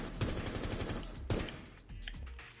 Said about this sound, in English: I'm just going to go ahead and unload a few rounds here.